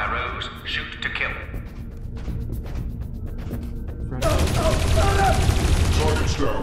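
Bursts of automatic gunfire from soldiers shooting in the video game Dreamfall Chapters, a dense rattling volley that swells louder partway through, with faint game speech and effects beneath.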